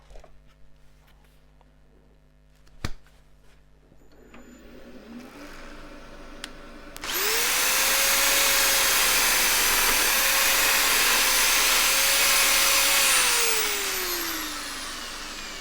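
After a couple of knocks, a power sander with 80-grit paper switches on and runs loudly with a high whirring hiss, its pitch dipping slightly under load.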